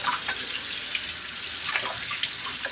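A kitchen tap runs steadily into a sink while dishes are washed, giving a continuous close splashing of water with faint clinks of handling.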